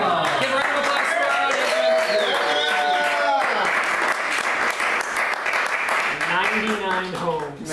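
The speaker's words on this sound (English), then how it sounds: "Give a round of applause for" An audience at a live polka show in San Francisco applauds, a dense, loud and continuous wash of clapping with cheering voices mixed in.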